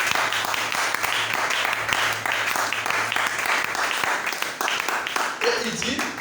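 A church congregation at a Bible seminar breaks into sustained applause and cheering, a dense continuous wash of clapping with voices calling out over it.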